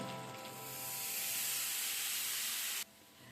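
Loud, steady steamy sizzle as a little water hits mutton frying in a pan, a broad hiss swelling for nearly three seconds before cutting off abruptly to a quieter simmer.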